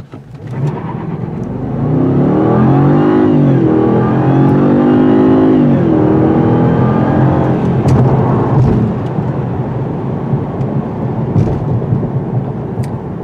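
A 2016/2017 Jaguar XJL luxury sedan's engine roars as it accelerates hard, pitch sweeping up through gear changes, loud and close, then settling into a steady drone.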